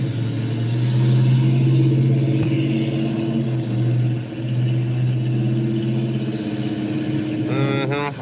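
A Dodge American muscle car engine holds a loud, deep, throaty rumble that swells and dips, close and continuous, with a brief rising rasp near the end.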